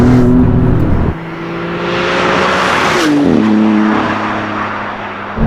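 Maserati MC20 supercar engine revving hard under acceleration, a loud close drone that climbs in pitch, drops at a gear change around a second in, then builds again with a second shift later.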